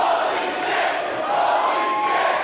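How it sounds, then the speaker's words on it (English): A crowd cheers and roars at a live pro wrestling show in the Commodore Ballroom, Vancouver, a sustained loud wash of voices with no break. "You can hear the crowd, they're thrilled about what they're seeing tonight."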